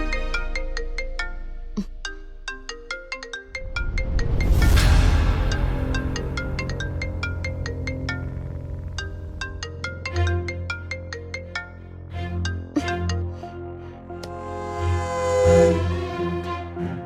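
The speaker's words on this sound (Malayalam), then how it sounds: "ഗാഥയുടെ ദേഷ്യം തീർന്നിട്ടില്ല, കട്ട് ചെയ്തു. ഒന്നുകൂടി ഒന്ന് വിളിക്കേ." Phone ringtone playing on an outgoing call, a loud melodic electronic tune with repeating tonal notes, swelling in places and continuing for the whole stretch without talk.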